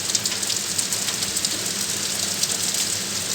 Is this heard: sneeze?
no